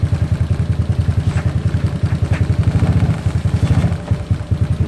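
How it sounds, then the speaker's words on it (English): A ZNEN ZN150T-9 scooter engine, the SSR Interceptor 150, runs loud and close with a rapid, steady pulsing beat as the throttle is turned, holding a busy revving rumble throughout. "Okay, let's go ahead and turn our throttle."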